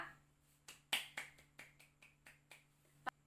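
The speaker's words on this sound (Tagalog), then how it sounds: "Bigyan natin siya ng palakpak, mga bata" Children in a Filipino grade-one lesson clap for a correct answer: about eight sharp, evenly spaced claps in a rhythmic pattern, faint and isolated against a quiet hum, with no talk.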